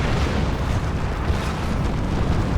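Dense, rumbling explosion from a Predator tank being destroyed in a Dawn of War 2 3v3 match, a sustained loud low boom with battle noise filling the whole stretch and no pause.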